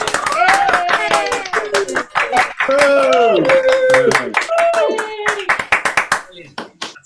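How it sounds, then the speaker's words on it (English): Online choir members on a video call clapping with microphones unmuted during a rehearsal, loud uneven claps from many separate connections overlapping with chatter and exclamations, thinning into scattered claps at the end. "Take yourselves off mute and give them a round of applause, please"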